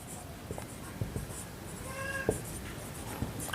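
A pen writes on paper during a class 8 percentage math lesson, with faint scratchy strokes and taps at close range in a quiet room.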